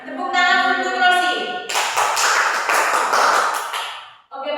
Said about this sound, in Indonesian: Tepuk tangan untuk Rosi.